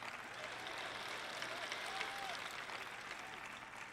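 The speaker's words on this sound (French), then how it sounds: "je suis heureuse que vous applaudissiez" A church audience claps steadily during a sermon, a dense wash of applause that holds at an even level throughout.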